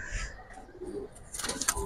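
A female pigeon coos softly in a short, low burst nearby, over faint background noise.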